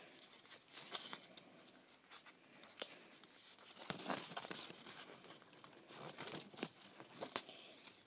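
Paper being folded into triangles for a hexaflexagon, soft crinkles, creasing scrapes and light taps in irregular bursts, close and quiet with no talking.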